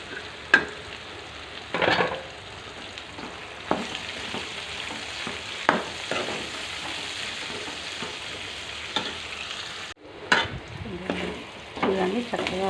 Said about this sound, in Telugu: దొండకాయలు ముక్కలు వేగిపోయాయండి.